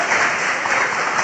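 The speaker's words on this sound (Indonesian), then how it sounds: "tepuk tangan untuk mahasiswa Politeknik Astra." An audience applauds Politeknik Astra students at a campus talk event. A brief burst of soft, even clapping keeps a steady level throughout, with no voices over it.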